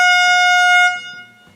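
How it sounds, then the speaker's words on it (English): A handheld air horn gives one loud, blaring, bright tonal blast that holds for under a second, then drops away abruptly, leaving quieter low rumbling behind. "every time you say something borderline, I'm gonna blow this air horn"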